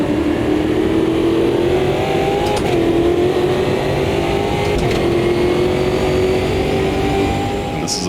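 Race car engine in the Automobilista 2 (AMS2) racing game at Nürburgring, a loud continuous drone holding a steady pitch with slight dips as the car closes on another, faint voice in the background.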